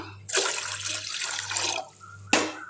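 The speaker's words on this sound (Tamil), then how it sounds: "இன்னொரு டம்ளர் தண்ணி ஊற்றிக்கலாம்" Water is poured from a tumbler into a bowl in a home kitchen, a close, splashing pour lasting over a second that tails off, followed by a second short splash.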